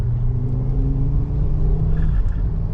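A Ford S-Max 2.5T turbo minivan accelerates hard, its engine droning with a deep, steady rumble and rising tone, heard from inside without talk.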